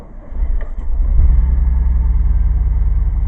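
A car engine with a conversion, its carburetor bowl filled by hand, cranks briefly and then catches, settling into a loud, steady, throbbing idle rumble close by.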